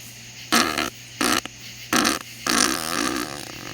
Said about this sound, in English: That's a pretty good fart.